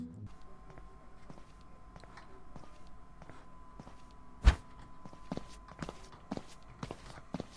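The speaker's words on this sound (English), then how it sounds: "Y'all hear them footsteps?" Footsteps of a homeowner arriving home in the stealth game Sneak Thief sound as soft, fairly regular steps in a quiet room, with a sharp knock-like thud midway and steps continuing after it.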